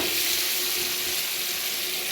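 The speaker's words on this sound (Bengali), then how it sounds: "ওল আর আলু দিয়ে ভালো করে নাড়াচাড়া করব" Elephant foot yam and potato chunks fry in a pan with a steady, close hiss of sizzling oil, broken by faint scraping as they are stirred, with no voice over it.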